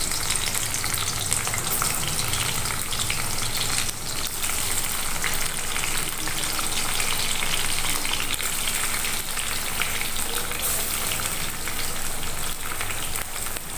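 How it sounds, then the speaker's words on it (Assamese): Chopped onion and green chillies sizzle loudly and steadily in hot oil in a pan while dry fish is prepared, a dense continuous crackle close to the microphone with no talking. "আৰু এতিয়া এখিনি পিঁয়াজ জলকীয়া দি দিওঁ"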